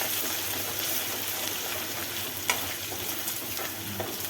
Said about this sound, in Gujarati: લસણની પેસ્ટ છે, આદુની પેસ્ટ છે। હવે આને થોડીક વાર આપણે સાંકળી લઈએ।